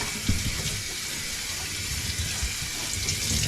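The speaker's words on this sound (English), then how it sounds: "So just give it a good scrub, rinse it off, and get it dry." Running tap water pours steadily over a plastic RC car body in a sink as it is rinsed, a constant close wash of splashing water without pause.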